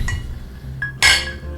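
Glasses clinking in a whiskey toast, two bright clinks, a lighter one followed by a louder ringing one near the end, close and distinct over a low background hum.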